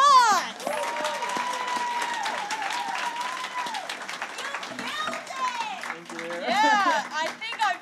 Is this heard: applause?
yes